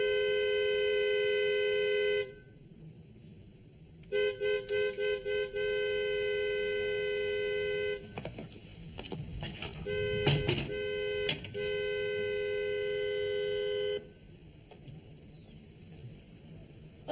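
A car horn blasts in long sustained honks, one early and several later, with a series of short rapid toots between and some clattering noise in the gaps.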